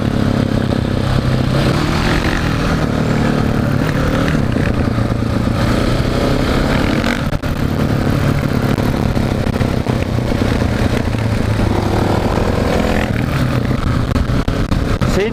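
A KTM 690 SMC-R supermoto motorcycle rides and accelerates, its single-cylinder engine droning loudly and steadily with rising revs and gear changes throughout.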